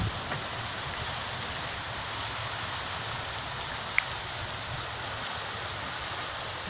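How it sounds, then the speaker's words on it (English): Steady rain with hail pattering down outdoors in January, a broad continuous hiss with a dense low rumble of impacts and one sharp click near the end, no voices. "It is hailing."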